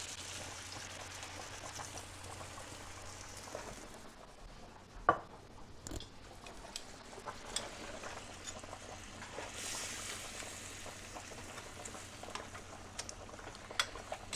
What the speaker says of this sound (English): we'll cook that in the broth until the broth starts to reduce nicely